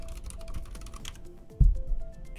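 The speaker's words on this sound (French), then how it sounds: "le bruit que mon clavier fait dans le micro" Computer keyboard typing picked up by a microphone during a Mario Kart 8 Deluxe race, a steady run of quick close key clicks with a heavier thump near the end.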